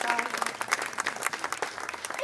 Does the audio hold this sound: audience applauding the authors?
yes